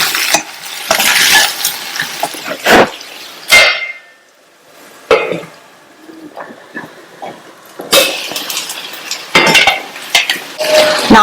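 Potato kara curry with masala is stirred in a pan partway through cooking: loud scraping and clattering of a spoon against the pan in bursts, with a quiet pause in the middle, no voice.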